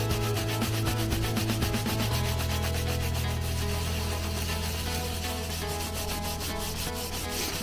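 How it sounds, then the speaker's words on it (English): Colourlock leather cleaner is rubbed by hand onto an automotive leather seat, giving a steady, close, rhythmic scrubbing and rubbing sound with no voices. "I'm gonna rub it on."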